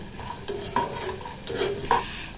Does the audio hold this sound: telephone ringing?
no